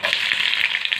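Onions hiss and crackle in a pan over garlic, a brief loud steady sizzle up close with no voices.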